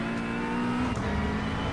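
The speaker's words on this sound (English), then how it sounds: "There's a faster class car approaching." Faster-class race car approaching in an iRacing sim race, a steady loud engine drone with a rising whine as it draws nearer, with no talking.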